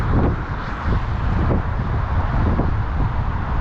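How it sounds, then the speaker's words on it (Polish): Strong gusts buffet the microphones outdoors near a railway station, a loud, low rumbling roar that surges and eases continuously throughout with no clear speech. "Wiatr straszny wieje. Wywioło po mikrofonach."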